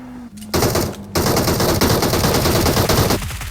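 A DP machine gun fires in BGMI/PUBG gameplay: a dense, loud, rapid burst of automatic shots lasting a few seconds after a couple of brief shots, then stopping abruptly.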